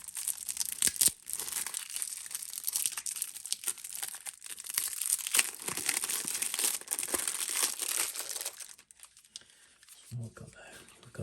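Plastic shrink-wrap crinkles and tears as cards from the board game Enemy Action Kharkov are unwrapped, a close, busy stream of crackling and ripping that continues for several seconds, with a voice speaking briefly near the end.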